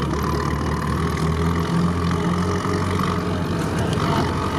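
A bulldozer engine runs at a steady low idle-like rumble, continuous and fairly loud throughout, heard from an off-road site with no talking.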